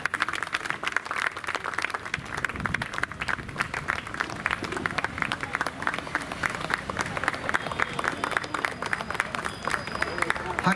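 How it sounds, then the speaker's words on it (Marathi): An audience at a monthly community gathering applauds with dense, sustained clapping that runs steadily for about eleven seconds, with a faint murmur of voices underneath. "दोघींसाठी जोरदार टाळ्या वाजवा."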